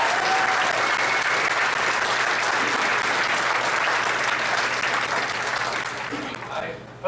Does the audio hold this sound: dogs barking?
no